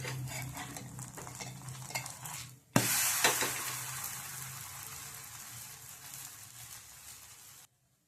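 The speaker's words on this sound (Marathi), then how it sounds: "आणि दोन्ही बाजूने आपल्याला छान शेकून घ्यायचं आहे." Spinach thalipeeth flatbread roasting on a pan sizzles softly under clinks and scrapes, then a sharp clatter is followed by louder sizzling that slowly fades before cutting to silence.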